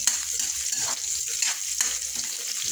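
Onions and ginger sauté in a pan with a steady bright sizzle, broken by the scrape of stirring at a few points, with no talk.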